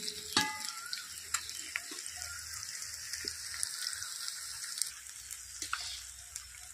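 Something fries slowly in a pan with a quiet, even sizzle and occasional sharp pops and utensil ticks. Nobody talks.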